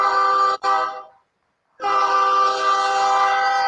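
A loud, blaring train horn sound effect plays as a steady chord-like air horn blast, cuts out briefly, then sounds again and holds.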